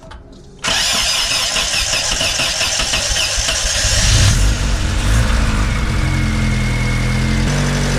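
Honda Del Sol engine, freshly fitted with a new head gasket, cranks under the starter and then catches into a rough, uneven idle that rises in a loud surge before settling, close and continuous throughout.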